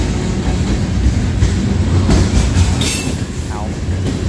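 Norfolk Southern freight train with mixed boxcars rolling past close by through Jeannette, Pennsylvania, a loud continuous rumble with wheel rattle and a brief metallic squeal near the end.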